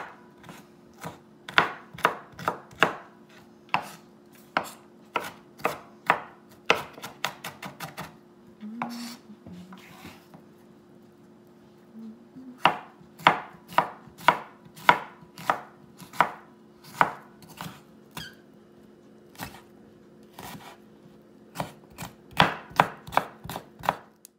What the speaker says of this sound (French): Tout couper ça en tout petits morceaux.